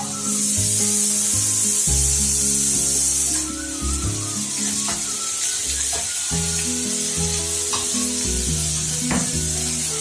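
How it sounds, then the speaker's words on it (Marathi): Chopped onions fry in oil in a heavy iron pan, a steady close sizzle with repeated scraping and stirring strokes throughout, no voices. "लोखंडाच्या कडेतच भाजते मी कांदा ब्राऊन होऊन द्यायचा"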